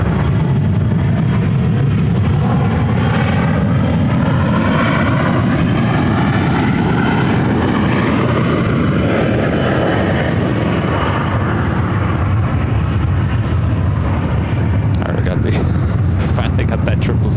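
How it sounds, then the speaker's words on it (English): A United Boeing 777-200 jet takes off from runway 1 left at San Francisco airport, bound for Honolulu, with a loud, steady engine roar that rises and shifts in pitch as it passes close by, filling the entire span. "One left for this United 777-200 heading to Honolulu."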